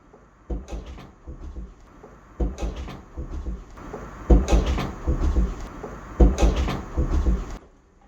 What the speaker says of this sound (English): That wasn't pipes, that was an actual knock.